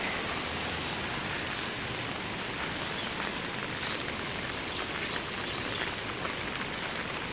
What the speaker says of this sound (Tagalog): Hanggang gabi itong ulan na to.